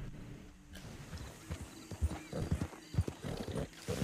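A horse in a video game clip-clops across the ground, its hooves sounding in uneven bursts, and it gives a short whinny midway through.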